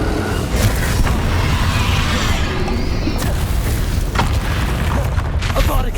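Bombarda and Confringo spell explosions from Hogwarts Legacy, heavy booming blasts and crashes that roll continuously through the whole stretch, loud and dense with mechanical clatter.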